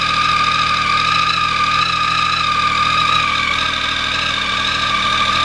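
A Triumph Speed Triple 1050R three-cylinder motorcycle engine idles evenly after a cold start, with a high whining whistle sitting above the low rumble, close and constant throughout.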